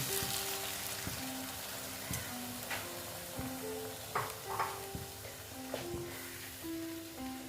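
Milk poured into a hot frying pan of Bengali paneer curry, with steady sizzling, scraping stirs and intermittent clinks of a spoon against the pan, close and moderately loud, no talking.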